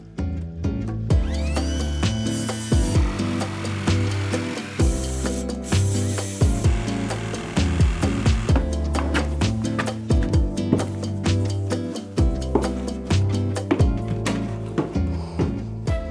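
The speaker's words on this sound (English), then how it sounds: "I need to cut this wood down a little further so that it's sitting underneath this trim" Power tool cutting wood on old 1857 stairs, rough buzzing bursts of varying pitch with sharp knocks and clatter between cuts, loud and close, no voices.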